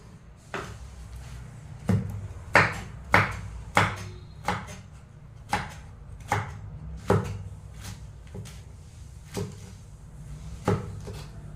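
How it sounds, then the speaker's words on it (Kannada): A knife chops ridge gourd on a board in a steady series of about a dozen distinct, moderately loud thuds spaced roughly a second apart, with faint background hum between strokes. "ಬೇಗನೆ ಕಟ್ ಮಾಡಿ ಬೇಯಿಸ್ಲಿಕ್ಕೆ ಇಡ್ತೇನೆ"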